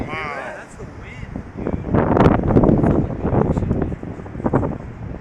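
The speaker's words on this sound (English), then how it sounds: "That sound is all the wind," Strong wind roars and gusts through a hail storm in Phoenix, Arizona, rising to a loud, rushing peak mid-clip and then easing slightly, with a brief voice near the start.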